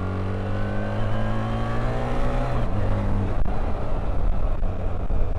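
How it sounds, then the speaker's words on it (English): A BMW R1300GSA adventure motorcycle accelerates hard up a steep hill, its engine note climbing steadily through the gears in a loud, continuous, close-up roar with rising pitch. "I'm going to pop it open on the steep hill."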